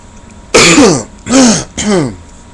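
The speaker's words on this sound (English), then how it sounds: "It's a pretty dry cough." Three harsh, rasping coughs in a row, close and loud, sounding dry and throaty with brief gaps between them.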